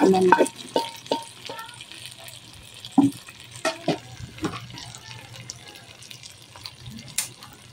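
Sizzling gambas (shrimp) crackle on a hot plate, with scattered utensil clinks and stirring knocks spaced irregularly over a low hiss.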